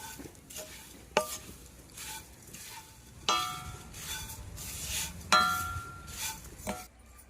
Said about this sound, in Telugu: మూడు చెంచాలు నెయ్యి పోసుకుందాం అటుకులు వేపుకుందాం